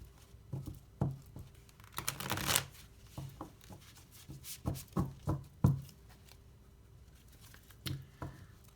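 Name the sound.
shuffling a deck of tarot cards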